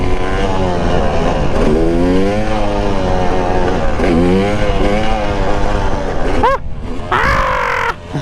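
A two-stroke engine revs hard and loud near the listener, its pitch sweeping up and down in repeated surges before dropping off, with a brief shout near the end.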